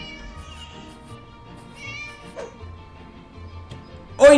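A cat in the video game Scary Teacher 3D meows several times, its calls faint and wavering over quiet background sounds, before a louder, sharper cry at the very end.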